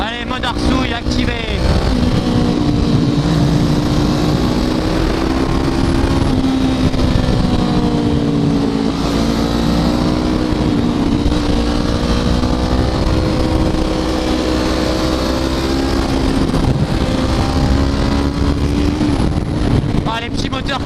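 A 2016 Honda CBR 500 R motorcycle engine revs hard while riding on winding roads, its tone rising and falling through gear changes, loud and close with constant wind rush throughout.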